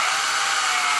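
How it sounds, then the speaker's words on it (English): A drill spins a number 33 bit through a small wheel, a steady high-pitched whir that holds evenly through a short burst, close and alone. "We're going to need to drill these wheels out to fit that 440 bolt"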